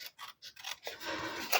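Scissors snipping through book paper for a small craft tag, a few quick close crisp cuts followed by a short sliding rasp, quiet and alone.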